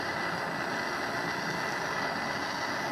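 Torch flame roaring steadily against a metal edge while rebuilding a DiD clone, a constant close broadband hiss with no breaks.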